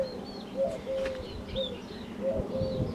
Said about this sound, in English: Sounds like the birds agree.